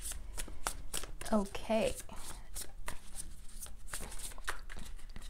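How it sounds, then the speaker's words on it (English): Tarot reading cards are shuffled in repeated quick riffling bursts throughout, close and fairly loud, while someone speaks over them. "as I shuffle the cards"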